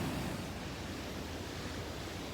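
Ocean waves roll onto a beach near a jetty and inlet, a steady broadband wash of surf with wind noise, continuous and fairly close throughout, with no voices.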